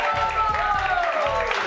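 Brief scattered clapping from a small group at a YouTuber team game show, fairly quiet under bright tonal music, a short burst of a couple of seconds.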